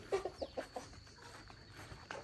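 Chickens on a farm clucking in a quick series of short, fairly faint calls at the start, then scattered quieter clucks and rustling as someone tries to catch the birds.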